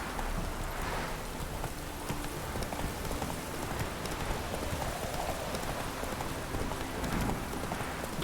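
The horse Roach gallops in The Witcher 3, with a steady, dense patter of hooves on the ground running throughout, close and continuous at an even level.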